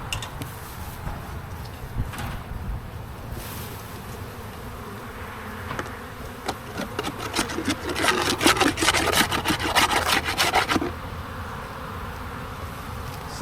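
Honey bees buzz in an opened hive during a spring buildup, a close steady hum with scraping and rubbing of wooden frames that grows louder and busier midway before easing off.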